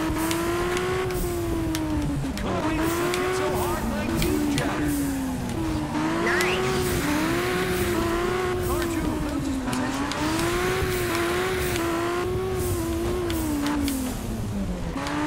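A race car in the Juiced 2 video game roars continuously, its engine pitch rising and falling through gear changes, with tires squealing through corners. The sound is loud, close and steady throughout.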